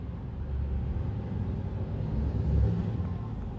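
A car drives past at a moderate distance, a low rumble that swells gently and peaks near the end before fading slightly, with no voices.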